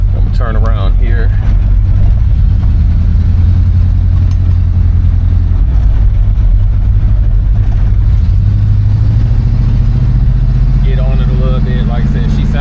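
A 1971 Oldsmobile Cutlass V8 rumbles steadily while driving, a loud, deep, continuous engine drone heard from inside the car, with someone talking over it at moments.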